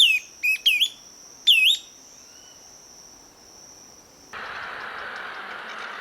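Birds sing in the dense foliage of a lower jungle, giving several short, bright whistled phrases close by. Steady insect buzzing then carries on alone.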